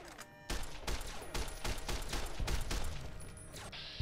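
Gunfire in the video game Fallout, a rapid run of shots with several louder bursts, dense and close, with no talk over it.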